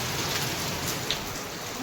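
Heavy monsoon rain in Surat pours down in a dense, unbroken hiss, loud and steady throughout, with no voices.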